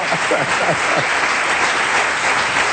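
An audience applauds steadily throughout, a dense wash of clapping with some scattered voices mixed in underneath.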